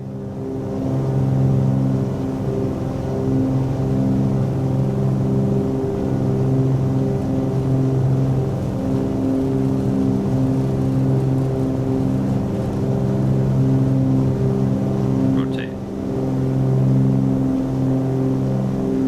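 Twin piston engines of a Milviz Cessna 310R in Microsoft Flight Simulator on takeoff roll, a loud steady droning hum with pulsing harmonics that swells and holds, with a brief click near the end.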